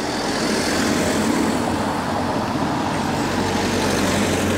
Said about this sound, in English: We'll just wait until these cars go by.